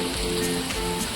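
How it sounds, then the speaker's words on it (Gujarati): Heavy rain falling steadily as a dense, even hiss, loud and continuous over a brief moment. "જો કેટલો બધો વરસાદ પડી રહ્યો છે અત્યારે."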